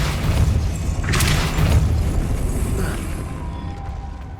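A Depulso force spell cast in Hogwarts Legacy, a low rumbling boom with a brief bright burst that swells, then fades slowly, loud and close with no talk.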